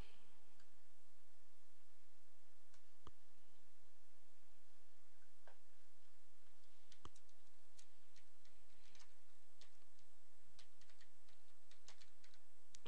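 Mouse clicks come while a new virtual machine is set up in VMware Workstation. They are quiet, scattered sharp ticks, some in quick pairs, over faint room noise.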